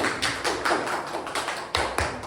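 A classroom of students claps hands in a few loose, uneven bursts, close and fairly loud, with short pauses between them.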